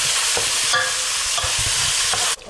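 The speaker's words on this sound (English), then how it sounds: "now that the minced meat, the ground beef is sautéed" Ground beef browning in a pan for Greek stuffed vegetables, a steady loud sizzle with repeated stirring scrapes, with no talking.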